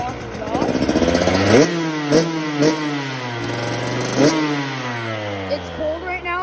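A Suzuki SX125 2022 dirt bike fitted with a Pro Circuit R304 shorty exhaust, run cold, revs up and down loudly and close, with several sharp throttle blips and falling pitch sweeps over a rough, steady idle.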